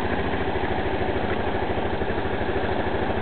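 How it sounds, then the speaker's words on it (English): A 260cc scooter engine running with a steady, loud, pulsing low idle close by, a slight rise partway through; no clear shut-off is heard. "now you're going to hear me give it some, try to rev it,"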